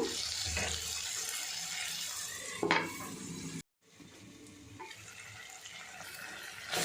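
Water is poured into a pan of eggplant gojju and stirred, a close, continuous watery rush and sizzle with a sharp clank of utensil on metal, a brief cut to silence, then quieter bubbling and stirring, no speech.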